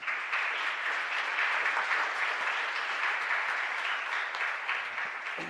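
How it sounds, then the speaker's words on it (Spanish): A chapel congregation at Mass applauds the priest, a sustained, fairly soft and distant patter of many hands that holds steady without speech. "Así que yo creo que merece un fuerte aplauso."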